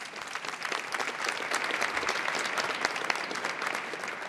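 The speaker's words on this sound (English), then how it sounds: "One more round of applause for them." Outdoor audience applause at a pride flag raising ceremony, a steady wash of many hands clapping at moderate distance, sustained without talk over it.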